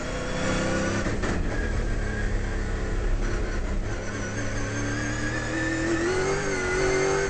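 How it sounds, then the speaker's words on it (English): Autobarn V8 race car at Wakefield Park, its engine roaring hard at racing speed with steady high revs, a sustained loud drone whose pitch climbs toward the end. "This V8 working hard."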